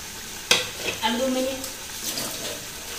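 Fish pieces slipped one by one into a boiling curry, a splash followed by bubbling and a soft sizzle, close and fairly quiet, with a faint voice underneath.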